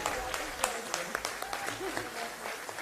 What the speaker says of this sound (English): A big round of applause to the entire team